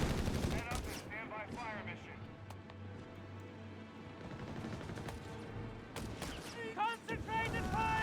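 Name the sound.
gunfire from Brownings, M1 Garands, Thompson in Company of Heroes 3 video game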